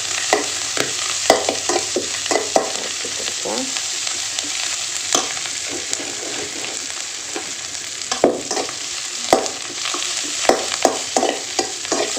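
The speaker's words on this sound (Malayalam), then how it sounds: "മുരിങ്ങയില നന്നായിട്ട് വഴറ്റി കൊടുക്കുക" Drumstick leaves sauté in a pan for a thoran, with a continuous close frying hiss and frequent scraping and tapping strokes of a spatula, loud and steady with no talking.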